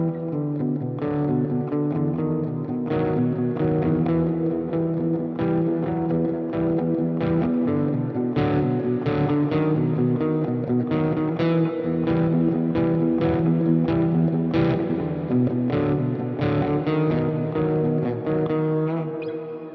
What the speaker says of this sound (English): this one's like the only one that's got kind of like a clean sound, a little bit of reverb to it